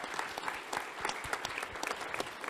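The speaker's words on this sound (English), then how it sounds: "Let's just give him a quick round of applause" A conference closing session draws a quick round of audience applause: dense, even clapping from a crowd that fills the whole stretch at moderate volume, with no talk over it.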